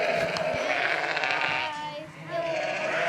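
Sheep bleat repeatedly at close range in a farm lambing shed in Scotland, their wavering calls overlapping with people talking nearby.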